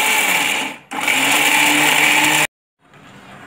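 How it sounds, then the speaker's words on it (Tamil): Loud, close whirring of a mixer grinder blending roasted mint chutney ingredients, running in two bursts with a brief dip between them before cutting off abruptly, followed by a faint rattle. "அதனால் மிக்சியில் போட்டு அரைச்சிக்குவோம் நம்ம."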